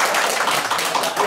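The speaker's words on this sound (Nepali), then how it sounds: "जोरदार ताली" An audience at a Nepali poetry gathering in Manassas, Virginia, applauds with a steady, dense patter of clapping that fills the brief moment.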